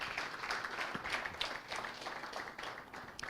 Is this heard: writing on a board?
no